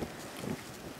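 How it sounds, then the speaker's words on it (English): Strong outdoor wind buffeting a microphone at a black powder shooting session, a steady rumbling roar with gusty low-frequency thumps and no speech. "It's really windy."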